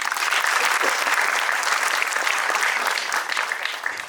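A big round of applause from an audience for a film's producers at a movie promotion event, sustained clapping from many hands at an even, fairly full level from start to finish.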